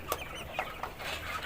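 Black Australorp chicks about sixty-three days old cluck and peep softly on a poultry farm in Pakistan, several short calls in quick succession over a low background.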